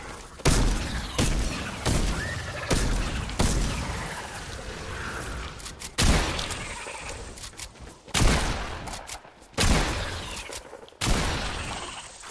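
Gunfire in the video game Fortnite, on an Outbreak map, comes as loud, close bursts and single sharp shots spaced irregularly, each trailing into a decaying crackle, with no talking over it.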